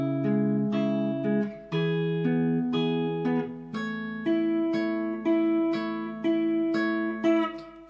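Fingerstyle guitar picks out the bridge of a song, clear plucked chords ringing in a slow, repeating pattern, close and alone without any voice.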